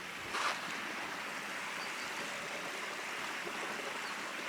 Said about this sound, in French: C'est hyper calme, il y a un petit ruisseau.